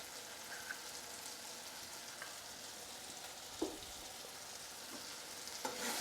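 Potatoes with yogurt stirred in a frying pan for a vegetarian Bengali aloo dum, a faint, steady crackling sizzle with a few soft spoon taps against the pan.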